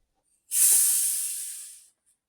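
A single sharp hiss of gas escaping as a bottle of homemade marigold kvass is opened, fizzing loudly up close for over a second before fading out.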